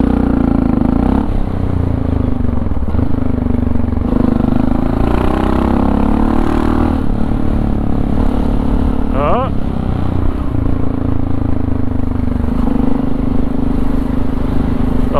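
A motorcycle lane splitting through a traffic jam, its engine droning steadily and close with slight shifts in pitch, wind noise throughout, and a person talking over it.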